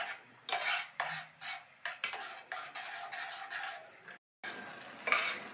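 A spoon stirs moong dal into a thickening white mixture for payasam in a cooking pot, giving repeated soft scraping strokes and gentle bubbling, close and quiet, with a brief silent gap.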